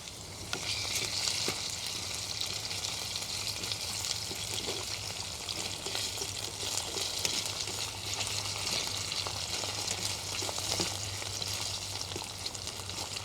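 Potatoes frying in a pan over a campfire, giving a steady, close crackling sizzle that continues unbroken with faint pops and stirring.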